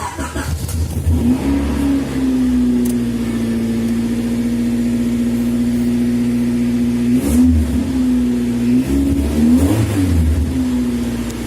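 A 1990 Honda CRX engine cranks and catches on a cold start, then settles into a steady, loud idle with a couple of brief revs near the end.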